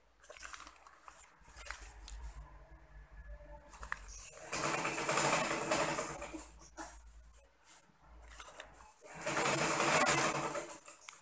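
A sewing machine runs in bursts as it stitches the split along the shoulder seam of a blouse, whirring close and steady with short pauses and handling noises between runs.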